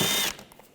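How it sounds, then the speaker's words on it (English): Brief burst of ratcheting from a ratchet with an 8mm socket backing out front bumper cover screws on a 2009-2013 BMW 328i, a quick close clicking whir that stops abruptly. "Using a 8mm socket, we want to take these screws out."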